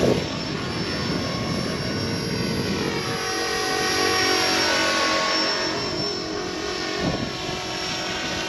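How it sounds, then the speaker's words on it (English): An RC scale model helicopter (Align MD500, Roban 470 AH-1 Cobra) flies nearby in an open outdoor sky, its steady rotor and motor whine holding level for the whole stretch with slight swells as it manoeuvres. "Quite a nimble little helicopter this."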